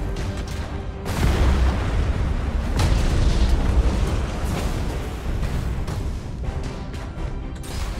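Torpedoes launching in Battlefleet Gothic Armada 2, a deep rumbling boom that swells after the first second and holds as a loud, continuous roar with scattered sharp bursts, no talking.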